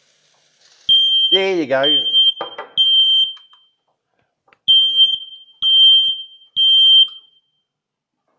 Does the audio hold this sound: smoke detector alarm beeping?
yes